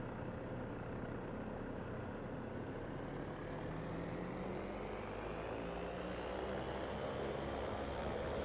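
Airplane engine in a flight simulator, cleared for takeoff on runway 25 during an ILS 36 approach session at KTYQ, roaring steadily and loudly throughout with a slowly rising pitch as it accelerates, no voices.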